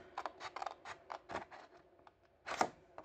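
Scissors snip through cardboard toward a score line on a desk organizer project, a quick run of about ten crisp close cuts, then a brief pause before a final louder snip.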